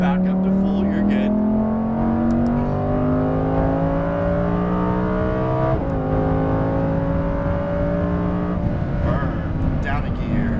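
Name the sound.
Lamborghini Huracan Performante accelerating on a race track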